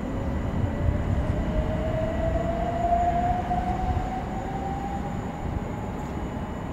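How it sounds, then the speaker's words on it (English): A C2C Electrostar unit, 357328, pulls away on a service from London Fenchurch Street toward Shoebury-Ness at Barking, its traction motors whining upward in pitch over a steady rumble of wheels, with no talk. "we're going to see this service towards Shoebury-Ness depart from London Fenchurch Street"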